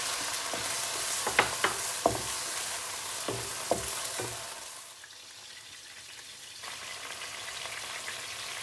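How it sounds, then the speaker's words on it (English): Garlic and shrimp sautéing in a hot pan for a mixed vegetable and baby corn dish, a steady close sizzle with several sharp utensil clicks and stirring scrapes early on, then a quieter, even frying hiss. "Saute the garlic first. And add the shrimp inside."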